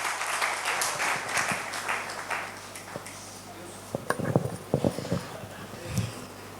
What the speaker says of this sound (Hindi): तो एक बार जोरदार तालियां प्रीति जी के लिए।